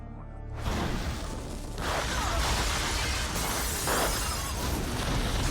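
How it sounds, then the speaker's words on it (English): An explosion from the TV show Smallville erupts after a brief silence, a loud sustained roar and rumble with crashing debris that holds for several seconds. "It's gonna blow up."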